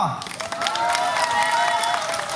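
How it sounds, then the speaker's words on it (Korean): At the opening ceremony of the 11th Yanggu Baekkop Festival in Yanggu, Korea, an outdoor crowd claps steadily at moderate distance for a couple of seconds, with a voice faintly audible in the mix. "큰 박수 부탁드리겠습니다"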